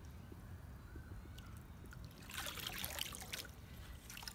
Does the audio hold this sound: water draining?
yes